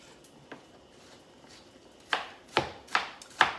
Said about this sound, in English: So if you can tell by my chopping technique, I'm not professionally trained.